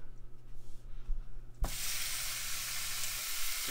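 Ground beef drops into a hot pan with a soft thud, followed by a loud, steady sizzle that continues to the end.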